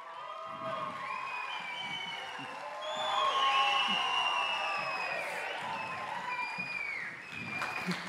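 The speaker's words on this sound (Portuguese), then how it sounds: "uma salva de palmas para os nossos astros" A hypnosis show audience breaks into applause that swells midway and then tapers, with scattered cheers and whoops amid the clapping.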